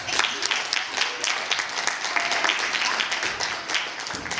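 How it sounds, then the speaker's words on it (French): Theatre audience applauding a young girl after her stage performance in a children's play: dense, lively clapping from many hands, close and continuous throughout. "On l'applaudit pour la belle"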